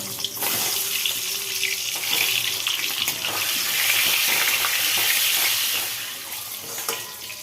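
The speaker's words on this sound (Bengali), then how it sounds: "এবার ডিমগুলো ভেজে নিচ্ছি একদম হালকা করে ডিমগুলো ভাজবো" Eggs frying lightly in a pan for a meatless Bengali biryani give a steady, close, broadband sizzling hiss that runs the full length with only slight swells, and no one speaks.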